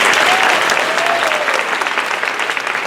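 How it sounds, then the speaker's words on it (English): Sustained applause from an audience, a dense crackle of many hands clapping at steady volume for a few seconds. "give her a round of applause, please"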